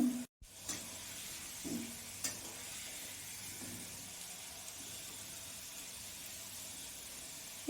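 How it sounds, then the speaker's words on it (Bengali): Ingredients for sabudana khichdi fry in a pan with a soft, continuous sizzle, broken by a few stirring scrapes, close but quiet. "এইগুলো আমি সেম একইভাবে ভেজে নেব।"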